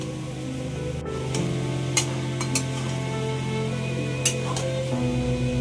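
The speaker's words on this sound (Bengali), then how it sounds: "দিয়ে ভালো করে নাড়াতে হবে। সব কিছুতে যাতে লাগে মশলাটা।" Cauliflower and soybean chunks stirred through spices in a hot pan, a steady sizzle of frying under scraping and clinking of a spoon against the pan, close and continuous.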